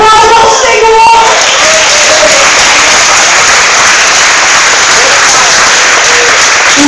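A church congregation applauds at a Portuguese-language sermon, a dense, loud wash of clapping that carries on steadily, with a voice briefly over the opening moments.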